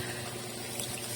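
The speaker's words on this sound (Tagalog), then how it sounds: "Lagyan ko na siya ng tubig." Water poured into a pan of sautéed mussels, a continuous hissing, gurgling wash of liquid, steady and fairly quiet for just over a second with no talking.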